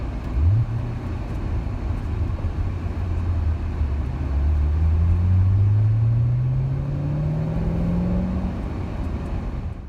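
C7 Corvette driving up Pikes Peak amid traffic, a close, loud engine drone heard from inside, rising steadily in pitch as it accelerates through a gear over constant road rumble, no talk.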